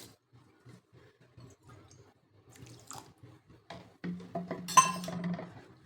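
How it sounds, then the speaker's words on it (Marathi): Water runs and splashes onto sugar in a metal pan for a couple of seconds, with light clinks of utensils before it. "साखर भिजेल इतपतच पाणी घालायचे"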